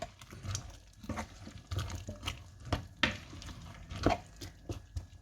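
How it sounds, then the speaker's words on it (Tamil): Kuzhai rice bubbling in a pot, with a soft, irregular patter and sizzle and a few louder pops and stirring knocks, heard close and fairly quiet. "குலை சோறு அவியுது."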